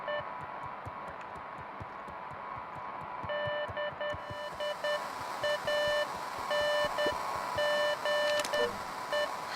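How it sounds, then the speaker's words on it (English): Morse code beeps from a walkie-talkie in the video game Beacon Pines, short and long tones in irregular groups over a low rhythmic throbbing hum, starting midway and continuing steadily without speech. "That's Morse code."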